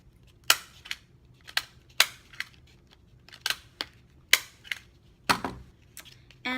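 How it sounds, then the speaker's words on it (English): A stapler clacks sharply again and again while metallic tape crown strips are fastened, about a dozen crisp, close snaps in an uneven rhythm over a quiet background. "and staple again."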